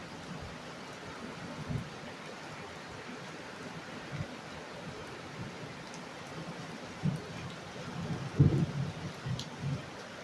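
Rain falls steadily in a soft, even hiss while low rumbles of thunder roll in a few times, strongest near the end.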